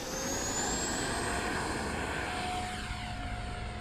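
A Fly Fans K-8 Red Falcon 6s EDF radio-controlled jet drones steadily overhead, its ducted fan giving a continuous loud whine with a slowly shifting pitch as it passes.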